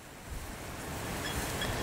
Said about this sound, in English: It really is windy today